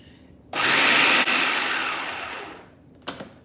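A blender whirs loudly, blending silken tofu into a chocolate mousse. It starts abruptly, roars for about two seconds and then slowly drops in intensity, with a brief clunk near the end.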